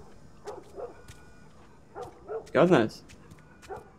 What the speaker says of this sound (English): I can hear a dog barking there.